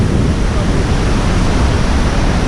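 Roaring of the many-tiered Iguaçu waterfalls in Brazil, a loud, unbroken broadband rush heard up close, with wind buffeting the microphone.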